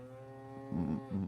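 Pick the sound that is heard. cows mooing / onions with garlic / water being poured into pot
cows mooing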